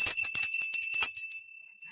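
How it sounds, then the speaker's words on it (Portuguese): A small bell jingles in a quick run of bright, tinkling rings that fade out, then one faint ring follows. "Essa merece até sininho."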